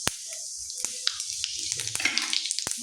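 Cumin seeds dropped into hot oil sizzle with a bright, steady hiss, close up, dotted with small sharp pops and crackles throughout.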